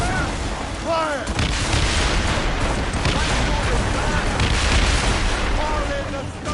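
Ship cannons fire in a rolling, overlapping volley during a naval battle in Assassin's Creed Rogue, loud and close over constant sea rumble, while crew members shout commands.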